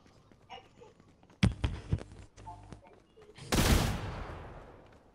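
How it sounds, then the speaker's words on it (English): Gunfire in a Fortnite prop hunt match: a few sharp shots, then a quick rapid burst, then a loud blast with a long fading tail, all in game audio with no talk over it. "Stop shooting a sec."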